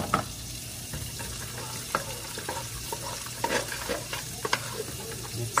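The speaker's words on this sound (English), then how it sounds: "Mix that in there like that." Brussels sprouts seasoned with lemon pepper being stirred in a pan, a soft continuous scraping and rustling with faint sizzle and occasional clinks, close by, no talking.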